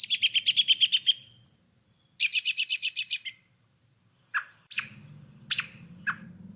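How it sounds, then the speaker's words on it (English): American robin giving whinny calls in fall woods: two rapid trilled bursts, then several separate sharp calls, close and clear against a quiet background. "More likely you'll hear the whinny calls or various other calls like these."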